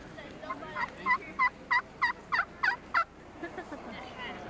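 A plain slate turkey call imitates a hen with a run of about eight sharp, evenly spaced yelps that rise slightly toward the end, close and clear against a quiet background.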